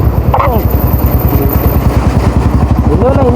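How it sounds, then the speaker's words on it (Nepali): A motorcycle engine drones steadily while riding, a loud close throbbing pulse throughout with wind rush, and people talk over it. "बाइकको साउन्ड चाहिँ बबाल आउँछ क्या।"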